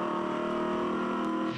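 A 5.4-litre Ford V8 ute race car sustains a loud, steady engine drone through a sweeping corner at Symmons Plains, one continuous heavy note at speed.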